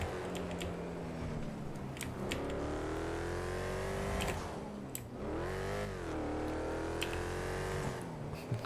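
A car engine in GTA 5 revs hard through rising gear pulls, its harmonics climbing, dropping at shifts and climbing again, loud and continuous with faint clicks layered on top and no talk.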